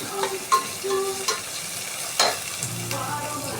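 Fish curry masala sautéing in a pan, with a spoon scraping and stirring in several distinct strokes over a soft, steady sizzle, close by and with no voices.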